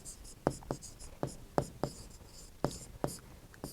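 Chalk or marker taps and strokes on a board during a class 8 maths lesson on linear equations, a series of short sharp marks in an irregular rhythm, close and fairly quiet.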